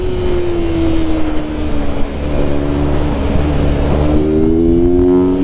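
A mini bike with a Rip-a-twin engine revs continuously out on a kart track, loud and close, its pitch sliding down then climbing again with a steady droning buzz.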